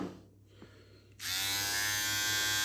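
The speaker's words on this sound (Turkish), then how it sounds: "Well Power adlı Çin malı bir marka. Gördüğünüz gibi normalde sakal tıraşı yapıyor." A cheap Well Power electric shaver, a Chinese-made beard trimmer, switches on after about a second of quiet and keeps up a loud, steady, high-pitched buzz with no talking over it.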